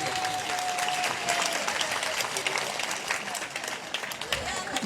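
A church audience claps loudly and steadily in thanks for Father Almas, with sustained applause filling the room throughout and a faint tone briefly audible underneath.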